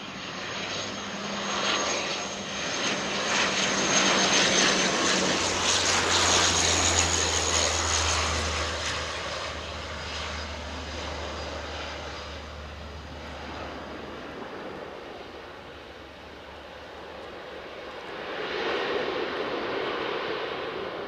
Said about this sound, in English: It's a TUI 737 coming out.